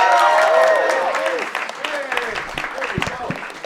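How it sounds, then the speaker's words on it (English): An audience at a stand-up comedy show applauds in a dense burst of clapping that starts strong and gradually thins, with a voice talking over the noise. "Let's put our hands together for Nathan Fuslebakke."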